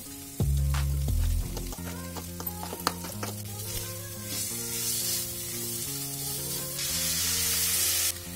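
Chicken pieces dropped into spiced, fried-down masala with cumin powder in a hot pan, hissing and sizzling steadily while being stirred, with clinks of a spatula and no talk.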